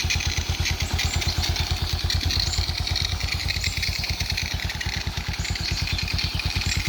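A Suzuki Smash Titan motorcycle engine idles close up with a steady, even low thumping pulse and mechanical clatter, running alone without any talk.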